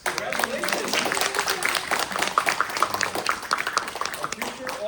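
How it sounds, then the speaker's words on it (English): A board of education meeting audience gives a round of applause, dense steady clapping from a small crowd lasting several seconds, with voices mixed in. "Okay, one more round of applause."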